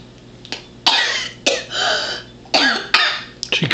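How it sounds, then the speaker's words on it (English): A woman coughs repeatedly in a doctor's office setting, several loud harsh bursts spaced irregularly with a throat-clearing quality, close to the listener and with no talk over them. "That was a real cough here."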